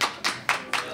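Four separate sharp claps spaced about a quarter second apart, close and fairly loud with nothing else around them, from the audience at a panel discussion on Kosher Jesus.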